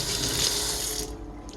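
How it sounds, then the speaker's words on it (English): Water runs hard from a tap into a sink as hands are rinsed, a loud, close, steady gush that cuts off near the end. "I'm just gonna rinse my hands off here."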